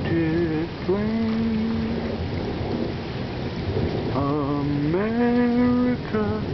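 Rain falling on a flag gives a steady, close hiss of patter throughout, while a voice sings a slow melody over it.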